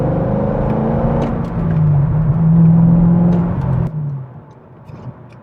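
A 2011 Corvette Grand Sport engine rumbles loudly up close, rising in pitch as it revs, then dropping off and settling to a lower idle.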